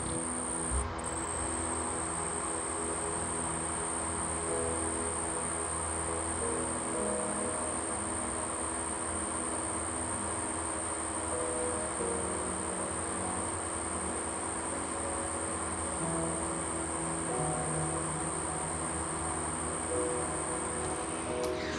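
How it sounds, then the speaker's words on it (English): Crickets chirp steadily in an insect terrarium, a constant high-pitched trill that holds throughout at low level, accompanied by a faint background hiss and no voices. "one thing that I can hear is their cricket"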